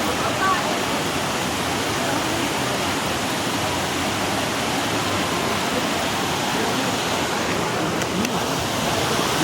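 Sidhnath Dari waterfall in Mirzapur roars as a loud, constant, broadband rush of falling water, close and unbroken from start to finish.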